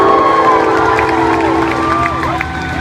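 Loud crowd cheering and applause at a concert in Oakland, a dense sustained roar with whoops and whistles filling the venue, close and continuous for a few seconds.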